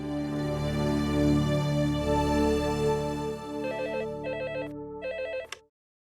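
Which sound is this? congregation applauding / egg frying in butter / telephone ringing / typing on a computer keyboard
telephone ringing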